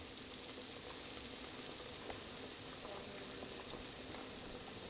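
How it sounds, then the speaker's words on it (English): Bratwurst simmers in beer in a pot on a stovetop, a steady broadband bubbling and hiss that holds evenly throughout without pause. "We're going to let that simmer for about 12 to 17 minutes"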